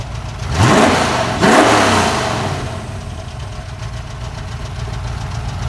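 A Ford GT40 replica with a new V8 engine and Ferrita exhaust system revs loudly and close in two sharp bursts, then settles into a steady, rumbling idle.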